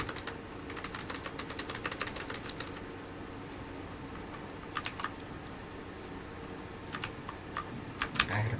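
Bursts of computer keyboard typing entering a command prompt instruction, a quick run of keystrokes followed by pauses and a few short clusters of taps, moderately faint over a low steady room hum.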